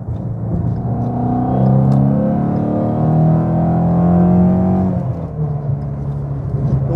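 Supercharged car engine held in third gear at about 3000 rpm, a steady loud drone with layered harmonic whine that rises slightly mid-way and eases off toward the end, with no talking.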